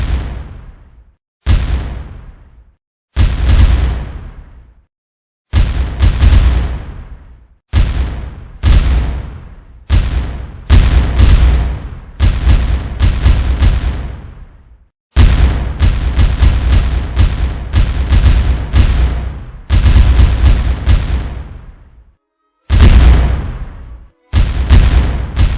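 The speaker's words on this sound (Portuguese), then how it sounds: "Ao passar, ocorreu o primeiro combate com tiros de canhão." Cannon fire in the naval Battle of Riachuelo rings out as heavy booms, each with a long fading tail. Some shots come singly with gaps between them, while others crowd together into rapid volleys, all loud and close.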